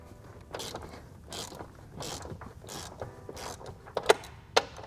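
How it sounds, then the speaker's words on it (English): A 16mm ratchet loosens tight bolts on the upper tie bar of a BMW B58 engine bay, making rapid mechanical clicks in short bursts with a few sharp metallic snaps near the end, close and moderately loud. "So now we'll grab our 16mm and loosen these 2 bolts."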